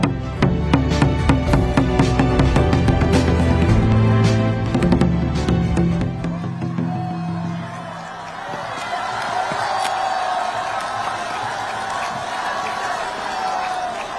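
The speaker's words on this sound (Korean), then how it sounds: "여러분, 큰 박수로 맞아주십시오" Outdoor political rally crowd at Dongdaegu Station's Park Chung-hee Plaza breaks into applause and cheering after loud music cuts off, a broad sustained roar of clapping and voices from a large gathering.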